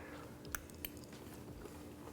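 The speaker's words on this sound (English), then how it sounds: "You got a little variation of texture with the slight crunch of the fried capers" Someone bites into homemade egg fettuccine with fried capers, giving a couple of faint crisp crunches over quiet chewing, close up and soft.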